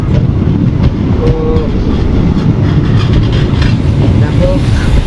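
Passenger train running on the Azimganj–Katwa line, heard from aboard as a steady low rumble with continuous wheel and carriage noise throughout, loud and unbroken.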